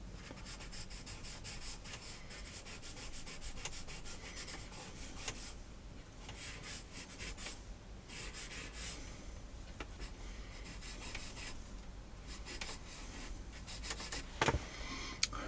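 Pastel rubbed across drawing paper makes a steady, close scratchy rasp that runs continuously with slight swells and dips, and no one speaks.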